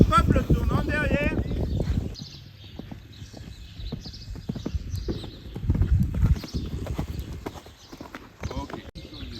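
A horse gallops during a riding course session, its hoofbeats thudding in a steady rhythm with a short whinny-like sound near the start, while a person talks over it.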